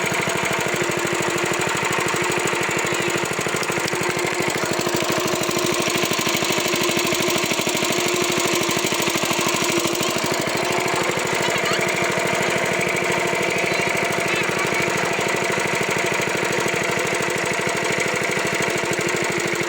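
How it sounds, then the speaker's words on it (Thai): A long-tail boat engine running steadily on a river in Laos, a loud, rough, continuous mechanical drone with a rapid knocking pulse that holds unchanged throughout. "เอาเป็นว่าตอนนี้กำลังขับเรือห่างอยู่"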